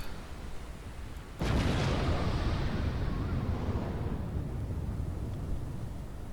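A battleship's big guns fire at a target in a naval game, one heavy booming blast that breaks a quiet stretch and rolls into a long, loud rumbling wash that slowly fades.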